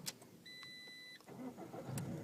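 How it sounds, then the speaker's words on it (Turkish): A car engine cranks briefly and catches, settling into a low running hum, with a few sharp clicks and rattles around it. "tekrar debriyaja bas arabayı çalıştır"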